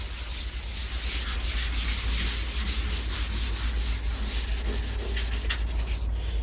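Hand sanding of a Vauxhall Corsa B door panel in circular motions, a continuous loud abrasive rubbing with rhythmic strokes roughly every half second, close up and alone.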